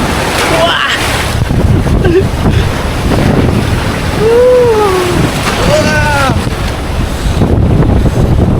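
Strong surf on Boracay beach roars continuously under heavy wind buffeting the microphone, with people's voices faintly audible in the background.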